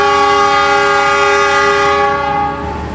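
A Ranggajati economy-class passenger train departs Probolinggo station in the evening, its horn sounding loud and sustained over the rumble of the rail cars, fading slightly at the end.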